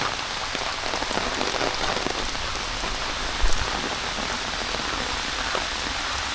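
Heavy rain pours steadily and close by, a dense even hiss of drops striking surfaces with one brief louder thud partway through and no voices.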